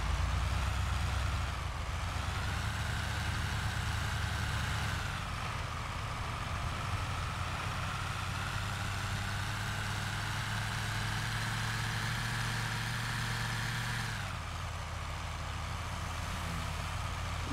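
Scania R440 truck in GTA V rumbling at a steady idle, then its engine note shifts a few times as it pulls along, a fairly quiet, continuous drone with no speech.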